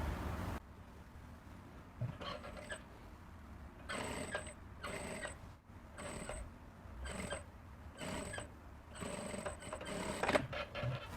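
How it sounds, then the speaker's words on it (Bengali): Sewing machine stitching piping onto a blouse neckline, running in short repeated bursts of rapid whirring with pauses between, close and fairly quiet. "এই যে যে সেলাইটা দেব এই সেলাইয়ের উপর নির্ভর করবে আমাদের পাইপিংটা চিকন হবে না মোটা হবে"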